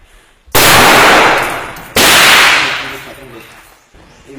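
Two very loud, close rifle shots fired during combat in Marawi, each a sharp crack followed by a long echoing decay, about one and a half seconds apart.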